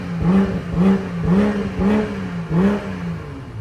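A Mercedes-AMG C63 S sedan engine is revved repeatedly at a gas station in quick, even pulses, each rev rising and dropping back, loud and nearby.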